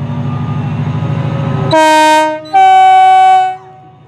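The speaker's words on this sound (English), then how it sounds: "departing now is the 1809 Chiltern Railway service to London Marylebone" A loud Chiltern Railways passenger train horn sounds in two long blasts as it departs a station, the first brief and the second held, over the low rumble of an idling engine.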